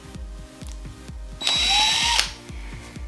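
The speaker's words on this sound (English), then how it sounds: "I found a drill." A power drill runs close by in short bursts, with a rattling ratchet-like clicking pattern and a louder whirring spin in the middle.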